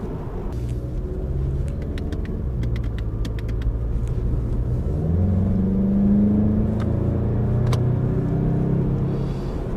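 A 2018 VW Golf GTI SE with turbocharged engine driving in snow, a steady low engine rumble and road noise with mild revving swells, heard from inside the cabin without talk.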